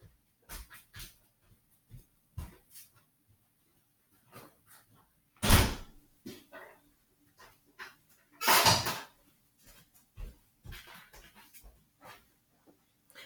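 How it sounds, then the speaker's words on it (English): A beagle moves about indoors, with close scrabbling and panting, a loud door bang in the middle and a second rattling thud a few seconds later, plus scattered small knocks. "My beagle walked in the house and she never shuts the door behind her."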